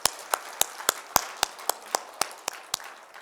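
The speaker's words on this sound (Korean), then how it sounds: "우리 영광을 받으신 하나님께 다시 큰 박수 올려드릴까요?" A church congregation claps in unison during a service, sharp, evenly spaced claps landing about three times a second, crisp and close over a quiet room.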